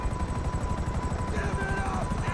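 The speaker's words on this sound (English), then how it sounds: "Oh, it's a stupid helicopter." Helicopter in the video game GTA 5 Online, a rapid, steady rotor chop with a whining engine tone, close and continuous over the short stretch.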